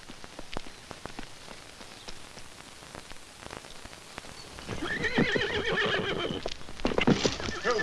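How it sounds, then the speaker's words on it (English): Horses neighing and whinnying in an old western film scene, preceded by scattered hoof clip-clops and rustling; the whinnies come in the second half, fairly faint and somewhat distant. "Guess these horses were scared away before the Indians could get them."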